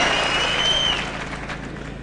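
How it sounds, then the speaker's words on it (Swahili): Clapping from an audience at a political gathering at Kabarak, a loud burst of applause that fades slightly over two seconds. "Asante sana, makofi kwa Sunguli"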